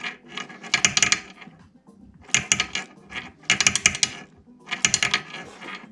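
Minarelli scooter engine parts for a Yamaha Aerox, Neos or Jog are spun by hand during assembly, making four close ratcheting, clicking bursts separated by short pauses.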